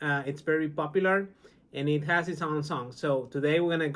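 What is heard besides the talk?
No distinct noise like a dog, phone or traffic.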